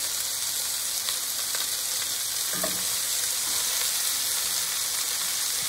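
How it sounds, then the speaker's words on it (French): Whole sausages frying in a pan with a continuous bright crackling sizzle, steady and close, with a soft clunk partway through. "Je vais commencer par mettre les saucisses. Je les mets entières, je vais les faire cuire"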